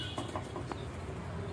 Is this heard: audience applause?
no